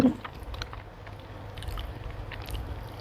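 Close, soft chewing of ripe Monthong durian, with faint squishy bites repeating under low room noise and no talk.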